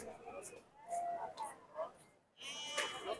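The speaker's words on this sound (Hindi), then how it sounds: "ये जी खूबसूरत बकरा" A male goat at a goat market in Talagang bleats several times in short wavering calls, moderately close, with a voice talking intermittently in the background.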